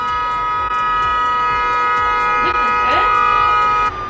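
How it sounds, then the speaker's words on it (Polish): A vehicle horn blares in a Barcelona street in one long, steady sustained honk of several seconds, loud and close, with city traffic noise and a few other tones rising briefly underneath. "Wow, to było chyba najdłuższe trąbienie, jakie w moim życiu."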